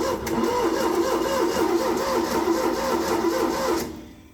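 A V8 engine fitted to an air compressor cranks steadily without spark, a loud, even rhythmic churning of the starter that runs alone for nearly four seconds before cutting off.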